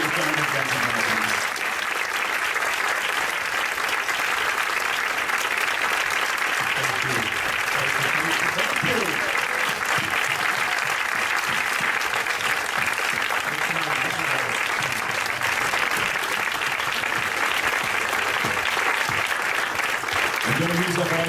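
Sustained audience applause, a dense wash of clapping from a large crowd, with voices faintly mixed in.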